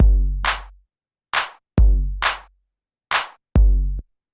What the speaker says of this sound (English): with the clap on 2 and 4 and the kick on the first beat